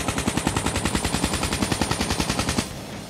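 Automatic rifle fire in COD Mobile, comparing the KN-44 and ICR-1, fired at long range: a rapid, loud, steady string of shots for about two and a half seconds, then it stops and leaves a quieter tail.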